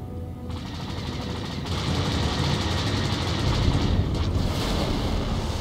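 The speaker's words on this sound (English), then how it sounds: "The ship is under fire" Dense, continuous blasts of starfighter gunfire and rumbling space combat from Star Wars: The Old Republic's Galactic Starfighter mode, loud and unbroken, swelling slightly midway with a sharp burst near the end.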